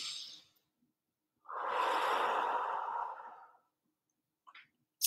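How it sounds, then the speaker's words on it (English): A single deep, audible inhale-exhale breath during a guided relaxation session for kids, drawn out over about two seconds, followed by a couple of faint clicks. "Take another deep breath."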